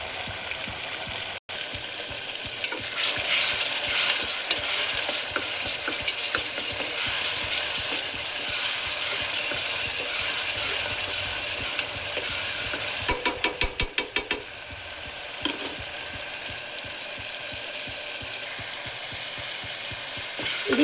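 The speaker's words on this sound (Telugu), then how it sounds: "ఉల్లిపాయ, అల్లం వెల్లుల్లి జీలకర్ర పేస్ట్. అది రావడం లేదు. బాగా పచ్చివాసన పోయినంత వరకు వేయించుకోవాలండి." A paste of onion, ginger, garlic and cumin, with curry leaves, fries in a pan with a dense, continuous sizzle, close and loud throughout, broken by a few quick clicking scrapes of stirring.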